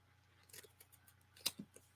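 Scissors snip through paper while trimming a flip-out piece for a junk journal, giving a few quiet close cuts with one sharper snip near the end, alone without talk.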